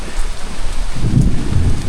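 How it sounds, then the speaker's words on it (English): Heavy rain pouring down during a hike through the Black Bear Wilderness Area in Sanford, Florida, a loud, steady hiss with a low rumble of thunder underneath and no talking. "This rain feels good actually."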